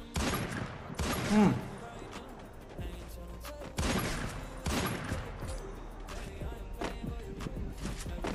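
Sharp bursts of gunfire in the video game Free Fire, including sniper shots, with several loud cracks spread across the stretch over a background of game sound.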